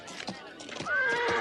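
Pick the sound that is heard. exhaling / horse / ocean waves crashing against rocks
horse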